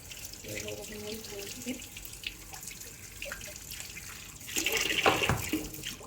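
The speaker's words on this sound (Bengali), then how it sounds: "মটরশুঁটি ছাড়ানো হয়ে গেছে, এবার না এটা ধুয়ে যাবে। চলো ধুয়ে নিই।" Shelled green peas are rinsed under a running kitchen tap: a soft, steady trickle with light splashes, then a louder rush of water near the end.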